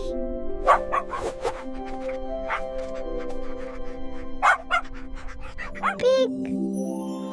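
A dog barks several times in short, bouncy bursts over a tuneful children's song backing with steady musical tones.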